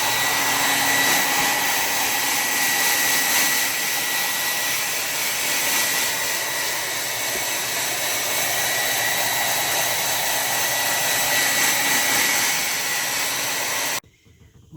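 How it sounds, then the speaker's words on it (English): A hair dryer blows steadily and loud at close range for about fourteen seconds, drying freshly cleaned clock movement parts in place, then cuts off abruptly near the end. "dry them with a hair dryer in place without having my drying box"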